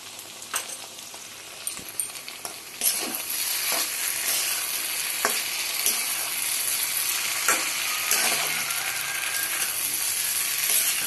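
Food frying in a pan is stirred, with scattered scrapes and taps at first, then a loud continuous sizzle swelling and holding steady, close up, with no one talking.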